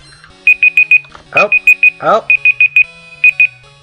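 Repeated electronic alarm beeps play in Pokémon Gold, a loud rapid series of short tones in clusters, broken twice by a voice exclaiming over them.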